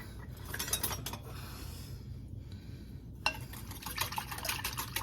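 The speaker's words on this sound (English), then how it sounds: "We'll whisk this together." A whisk stirring sugar into a salad dressing in a bowl, with quiet, steady scraping and light clinking against the bowl, faint and close, and no voices.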